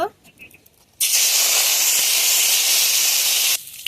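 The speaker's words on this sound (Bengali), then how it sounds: "তেল গরম হয়ে গেছে এখন জিরে ফোড়ন দেব" Cumin seeds dropped into hot oil for a Bengali taro-root (kochur mukhi) curry burst into a loud, steady sizzling hiss that lasts a couple of seconds before dropping off abruptly.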